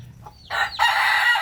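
A penned rooster gives a short cluck, then a loud, close crow that fills the rest of the brief moment.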